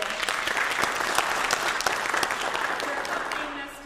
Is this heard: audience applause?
yes